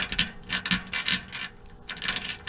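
Bolts being run on a utility trailer debris enclosure, a close series of quick ratcheting clicks in short irregular bursts with brief pauses, moderately quiet, with no talking.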